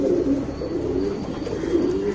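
Two male HMT pigeons coo close by, soft throaty rolling calls overlapping continuously.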